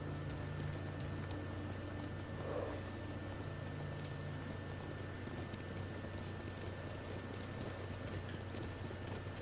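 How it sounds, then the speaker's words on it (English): Horse hooves clip-clopping at a steady walking rhythm through a forest in Ghost of Tsushima, soft and close over a constant low ambient hum, with no talk. "Riding a horse in a forest with my uncle"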